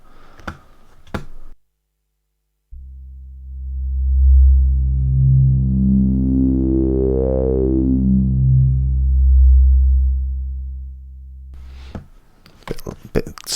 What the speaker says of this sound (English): Just to hear what that low end grunt sounds like on each of them.